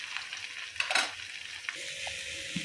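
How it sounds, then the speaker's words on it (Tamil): Fish frying in a pan gives a soft, continuous sizzle, broken by a few sharp clatters of a utensil near the start, with a faint tonal ring near the end. "இந்த பக்கம் மீனும் பொரிஞ்சிக்கிட்டு இருக்கு"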